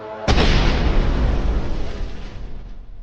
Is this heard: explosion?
yes